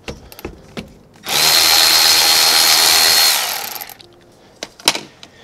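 An electric power tool whirs loudly for about three seconds, removing rear brake caliper bolts on a 2018 Subaru Crosstrek, with scattered metallic clicks and clanks of handling before and after.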